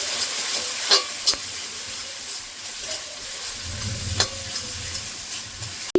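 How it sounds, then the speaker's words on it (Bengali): Poppy seeds frying with turmeric powder in a pan, a soft steady sizzle with occasional stirring clicks and scrapes, fairly quiet and alone. "হলুদ গুঁড়ো দিয়ে আরেকটু ভেজে নেব।"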